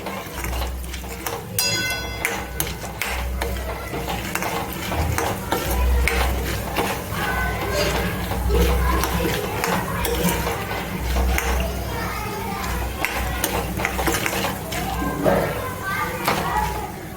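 Roasted peanuts stirred with turmeric in a pan for Kathiyawadi masala peanuts, giving a steady scraping rustle with soft sizzling under continuous talk and background household noise.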